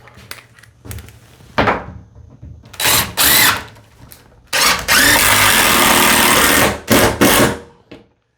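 A power drill bores into the roof of a box van in several loud bursts of varied length, with short pauses and thunks between them, one long sustained run near the middle.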